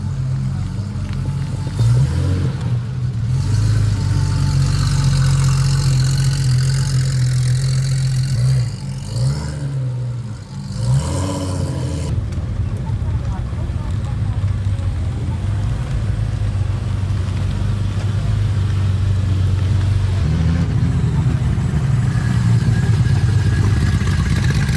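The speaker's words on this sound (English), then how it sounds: "Car just stumbled in here." A car rolls into a closed parking lot at an annual RWB Porsche meet, its engine a loud, steady low rumble close by that dips briefly near the middle before carrying on, with faint voices in the background.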